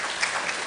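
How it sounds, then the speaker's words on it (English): Brief burst of audience applause at an academy founder's week programme, a continuous, even patter of many hands heard from some distance. "Ladies and gentlemen, a round of applause for our chair,"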